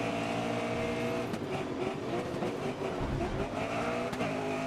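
Race cars roar and overtake one another during a multi-lap racing video game, engines droning loudly and steadily with shifting pitch and a brief dip as a car passes close by.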